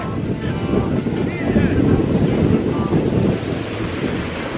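Steady wind and surf roar at a Jamaican beach, a dense continuous wash of breaking waves with gusting wind buffeting the microphone throughout.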